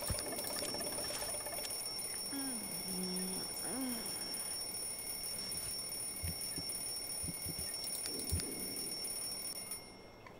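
An alarm clock rings in the video game The Sims 2, a steady, high-pitched electronic tone running for about ten seconds over quiet game ambience with a few soft effects, then cutting off at the end.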